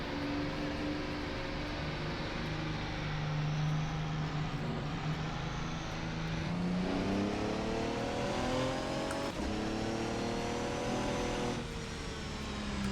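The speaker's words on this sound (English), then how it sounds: "This car almost sounds like a diesel." A Le Mans prototype race car engine in the racing sim rFactor 2, with a gruff diesel-like tone, revving in repeated rising pulls and gear changes, loud and steady without speech.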